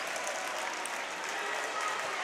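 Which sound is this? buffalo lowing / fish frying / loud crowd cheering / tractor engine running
loud crowd cheering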